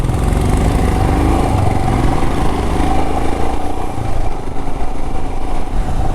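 Royal Enfield Himalayan BS6 motorcycle pulling away at the start of an early-morning ride, a loud close engine note that rises through gears before easing to a steadier rumble.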